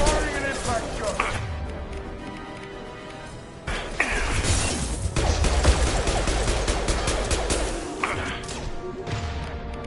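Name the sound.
impact shot gunfire in the video game Mass Effect 2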